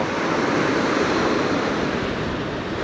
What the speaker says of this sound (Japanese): ちょっとでも波が高すぎるな。